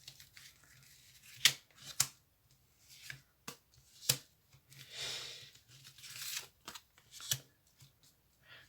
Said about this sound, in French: Je vais donc effectuer la coupe et je vais sélectionner 3 cartes pour vous que je vais poser face à vous.